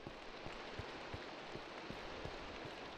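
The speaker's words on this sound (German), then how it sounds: "Und es regnet." Rain falling in Minecraft, a steady dense hiss of drops hitting surfaces with soft regular patters, continuous and even throughout with no voices.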